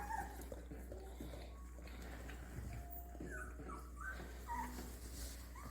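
A 13-day-old Bernese mountain dog puppy whimpers in a few soft, high, brief whines over steady low background hum, fairly quiet and close.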